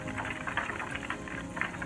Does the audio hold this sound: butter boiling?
yes